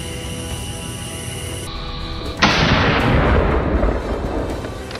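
Single loud rifle shot at a wild hog in a Florida swamp, a sharp crack with a long rolling boom and decaying echo after a steady background hum.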